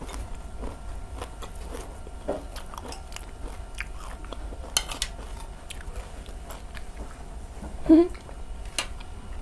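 Close-up eating of rice with red ant egg chili paste, soft biting and chewing with faint cutlery clinks, steady and quiet, with one sharper bite near the end.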